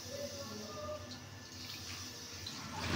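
Water poured into a pan of Bengali-style green jackfruit curry, a steady soft splashing stream heard close up at low volume without speech.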